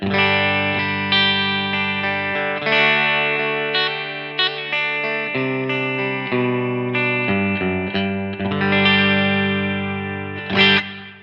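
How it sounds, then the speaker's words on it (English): Clean electric guitar chords and single notes ring out through an amplifier set completely clean, sustained with a reverb tail from the amp, played alone at a steady moderate volume. "Got the amp set completely clean, which sounds like this."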